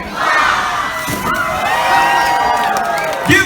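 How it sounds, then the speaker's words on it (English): A crowd of boys and onlookers at an outdoor show cheering and shouting loudly, sustained whoops and yells that fill the space throughout, with a brief louder burst near the end. "Give the boys a big round of applause."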